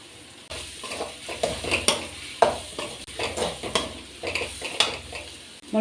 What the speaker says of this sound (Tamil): கத்திரிக்காய் கொஞ்சம் நல்லா வதங்கணும்